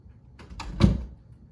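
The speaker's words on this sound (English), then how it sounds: "I'll close my doors." A door swings shut nearby in a home, a soft brushing movement followed by a single muffled thud, brief and fairly close, alone.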